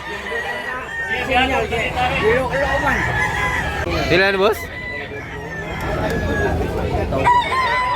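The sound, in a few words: rooster crowing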